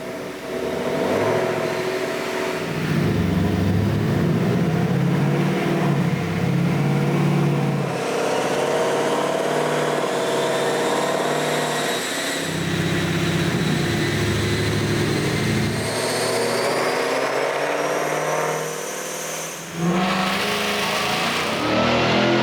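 Supercharged 2021 Roush Mustang GT/CS V8 running on a dyno, loud and close, with repeated long pulls climbing in pitch and cutting back between runs, supercharger whine rising over the exhaust roar.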